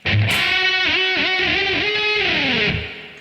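A heavily distorted electric guitar plays a short chorus fill, a quick run of bent, sliding notes over about three seconds that ends in a fading ring, loud and alone.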